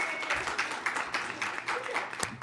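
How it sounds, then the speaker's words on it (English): Clapping breaks out at a TriMet Board of Directors meeting after a unanimous vote, a faint, uneven scattering of hands with a few sharper individual claps standing out. "I hear the clap."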